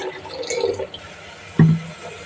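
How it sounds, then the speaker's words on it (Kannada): Water pours into a bottle at home in the morning, with a brief gurgling fill and trickle, then a sharper splash or clunk near the end, heard close up without speech. "ನಾನು ವಾಟ್ರ್ ಬಾಟ್ಲಿಗೆ ನೀರು ಹಾಕ್ತಾಯಿದ್ದೀನಿ."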